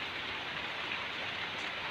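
Steady rain pours down by the eaves of a house in the Mekong Delta countryside, a dense, even hiss of drops close by with no voices.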